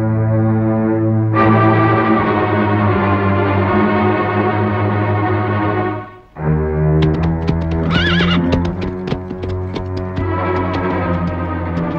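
A horse in a Tamil film scene neighs loudly in long, drawn-out whinnies, then a second burst of shorter, shaky neighs follows after a brief pause.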